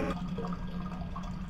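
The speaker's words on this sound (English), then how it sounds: "He's gonna flush me!" Rushing, gurgling water of a toilet flushing in a cartoonish video game set in a giant toilet bowl, a steady low churning wash that fills the short moment without any talking.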